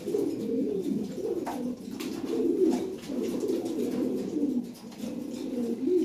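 Lahore Siraji pigeons in a loft cooing repeatedly, soft low throaty calls overlapping in a continuous murmur, close and moderately quiet.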